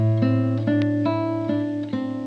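Classical nylon-string guitar plays a short measure from a Sagreras beginner lesson: a low bass note held under a sequence of single treble notes on the first string, plucked cleanly and evenly, close and solo.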